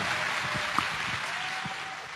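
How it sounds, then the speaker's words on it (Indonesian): An audience in a university hall applauds Indonesian presidential hopeful Anies Baswedan, producing a steady, moderately faint wash of clapping with no pauses. "Kita kasih tepuk tangan untuk Anies Baswedan"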